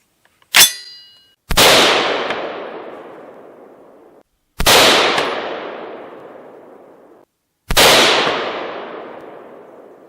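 Three loud, sharp 7.62 rifle shots fired from a 20-inch barrel ring out outdoors a few seconds apart, each cracking and then decaying slowly, after a short metallic click.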